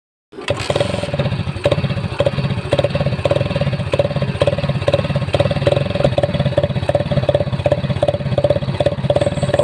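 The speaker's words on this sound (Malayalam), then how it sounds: "ഇത് ഏകദേശം ഒരു ഡ്യൂക്കിൻ്റെ സൗണ്ടൊക്കെ നമുക്ക് ലഭിക്കുന്നുണ്ട്" A Hero Splendor motorcycle with a modified exhaust fires up and idles close by, producing a steady, deep, throbbing thump with a rapid regular pulse that carries on without a break.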